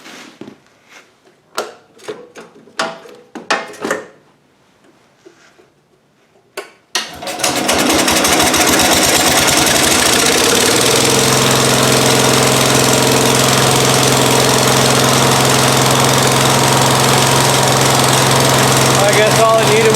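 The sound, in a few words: Cub Cadet lawn tractor engine starting and running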